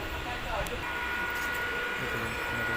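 A steady, continuous rumble and rattle of a moving train bound for Sealdah, close by and fairly loud throughout.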